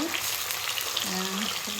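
Close oily sizzle of fish frying in a pan, continuous and fairly loud, with faint tonal hums in the background.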